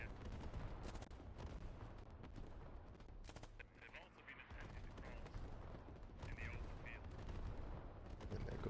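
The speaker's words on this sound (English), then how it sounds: "And there goes the artillery." Artillery and gunfire boom and crackle across a battlefield in the Squad military shooter game, dense overlapping blasts and rattling shots, loud and continuous, with voices faintly in the mix.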